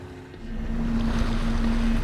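A Sichterman Libertas motor yacht cruises at sea toward the Bay of Villefranche, its engine drone steady beneath washing waves and wind, building slightly and staying close and continuous.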